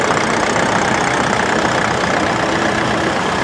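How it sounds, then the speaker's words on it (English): A Massey Ferguson tractor with a Perkins diesel engine of about 120 horsepower runs at a tractor show, a loud, close, steady engine rumble with a constant rough texture and no pauses. "deep within there is a Perkins diesel engine, running around 120 horsepower"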